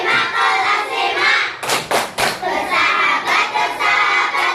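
Fifth-grade schoolchildren in a classroom clap in unison through a class chant, a few sharp loud claps in quick succession and then softer rhythmic clapping beneath their chanting voices.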